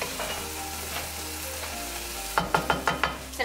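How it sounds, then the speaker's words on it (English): Chilies and coconut milk bubble and sizzle in a pot for Bicol Express, giving a steady low simmer followed by a run of sharper stirring scrapes and pops near the end, with no talking. "So now that it's boiling,"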